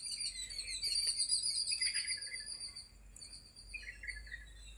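Small birds chirp and sing in a garden at dawn, several high tweeting calls overlapping steadily with a faint insect-like buzz beneath, no voices.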